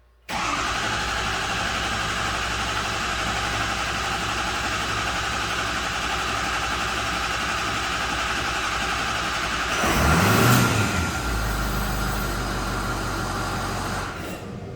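A 2006 Ford F250 with the 6.0 diesel engine cranks and runs at a steady, loud, close drone, then surges briefly in a rev before settling back to a steady idle.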